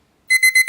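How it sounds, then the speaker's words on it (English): A short electronic buzzer at a women's Olympic basketball game sounds in quick pulsing bursts, loud and close, after a brief silence. "the buzzer did just end. Did just go off"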